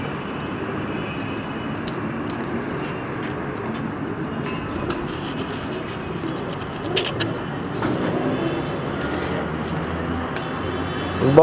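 A golden pigeon coos softly amid steady background noise, with low repeated calls, faint traffic or machinery rumble and a quiet voice in the surroundings.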